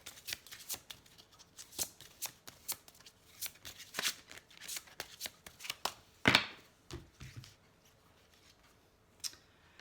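Tarot cards shuffled by hand at close range, a quick series of crisp riffling slaps and flicks in uneven bursts, with one louder full riffle partway through, no voices over it.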